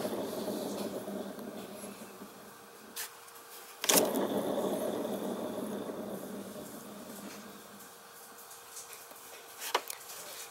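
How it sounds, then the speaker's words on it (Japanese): A worn wheel bearing on a hand-spun Suzuki Let's 4 scooter wheel gives a faint, continuous low rumble and grind recorded up close, with a couple of sharp clicks and knocks along the way. "こういう感じでね、ゴロゴロゴロゴロっていうね、音が出ちゃってますね。"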